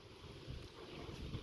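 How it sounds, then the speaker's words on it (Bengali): Strong wind blows across a rooftop, a brief, soft, steady rush of buffeting air against the microphone with no talk. "হাওয়ার কি শব্দ"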